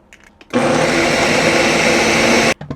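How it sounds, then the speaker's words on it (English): A kitchen blender whirring through cottage cheese and eggs, a loud steady motor roar that starts abruptly, runs about two seconds without change, then cuts off, with faint handling noises before and after. "We're just going to throw our ingredients in here and blend it up."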